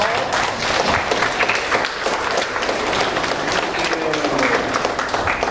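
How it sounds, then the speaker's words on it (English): A school audience at a Constitution Day election event gives the standing candidates a round of applause, dense and sustained clapping with crowd noise throughout, close and loud. "can I have all of those candidates stand up and we can all give you a round of applause?"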